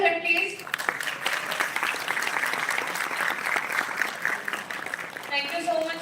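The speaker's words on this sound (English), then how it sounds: "Can you have a huge round of applause for him, please?" Audience applause for a guest speaker at a college cyber security event, a broad steady clatter of clapping filling the room, with voices mixed in at the start and end.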